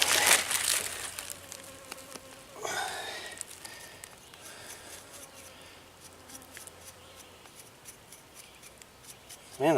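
Insects buzz outdoors during the cleaning of freshly picked chanterelle mushrooms, a faint persistent drone with scattered scraping and handling noises, louder at the start and end, with no talk.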